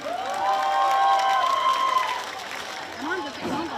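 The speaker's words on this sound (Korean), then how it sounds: "박수 한번 크게 부탁드릴게요." Crowd cheering and clapping in front of an outdoor stage at the 2024 Gimcheon Grape Festival, with a bright whistle or shout over the mixed applause, loud and close for a few seconds before easing.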